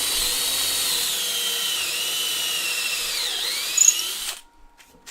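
A power drill with a 7.5mm bit whines steadily at high speed drilling a hole in wood, its pitch dipping slightly as it bites, then cuts off abruptly near the end.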